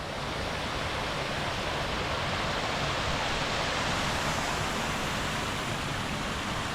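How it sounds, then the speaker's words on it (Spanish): Water pours steadily down a river gorge (foz) along a mountain trail near Pico Corbellosu in Laviana, a dense, continuous rushing roar at constant loudness with no voices. "y sigue cayendo el agua."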